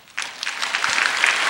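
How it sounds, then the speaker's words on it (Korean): A church congregation breaks into applause after a brief quiet moment, a dense, even rush of many hands clapping that holds steady and fairly loud to the end. "내가 박수 받으려고 그런 게 아닌데."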